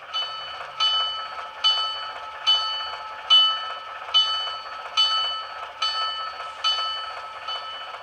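A bright, clanging model train locomotive bell rings steadily in a regular rhythm, about once per second, close and clear with no other sounds around it.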